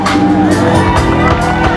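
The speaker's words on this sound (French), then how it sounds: "On applaudit, la chorale Luc Gillon est là." A concert crowd cheers and whoops loudly and continuously for the Luc Gillon choir, a dense wash of shouts with music-like tones underneath throughout.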